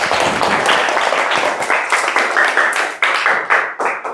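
Students in a classroom clap together, loud close rhythmic claps in quick repeated bursts that settle into a regular beat.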